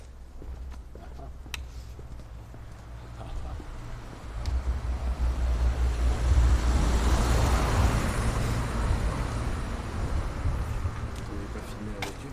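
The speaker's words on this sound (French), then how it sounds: "Tu voulais pas filmer la voiture?" A car passing at night on a road, a low rumbling engine and tyre noise that swells over several seconds and then slowly fades, with faint street background and no speech.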